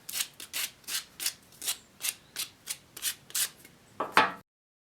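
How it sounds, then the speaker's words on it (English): Sandpaper rubbed by hand over the cut ends of wooden segments for a segmented ring, clearing loose fibers: about eleven even back-and-forth scrapes in steady rhythm, close and fairly loud, ending with one sharper stroke. "I'm using a piece of sandpaper to get rid of those"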